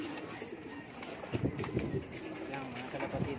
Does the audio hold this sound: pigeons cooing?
yes